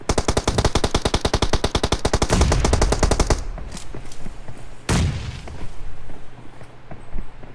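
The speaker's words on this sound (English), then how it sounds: "AK-47 at the ready." AK-47 fire in a video game, a rapid sustained automatic burst of loud close shots, followed by a single sharp report and fainter scattered in-game noise.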